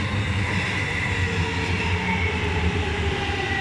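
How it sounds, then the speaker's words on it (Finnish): A Helsinki metro M200 train pulls in with a steady, loud rumble of wheels and motors and a faint rattling clatter, continuous and close throughout. "Nyt tulee kyllä M200"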